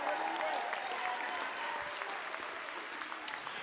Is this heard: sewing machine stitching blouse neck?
no